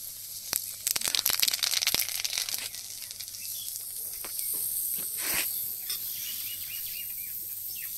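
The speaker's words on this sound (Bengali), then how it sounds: "এবার দিয়ে দেবো মাছ ভাজার তেলের মধ্যে কালো জিরা ফোড়ন" Black cumin seeds are tempered in leftover fish-frying oil, giving a quiet cluster of sharp crackles and pops at first, then settling into a faint, steady sizzle with occasional pops.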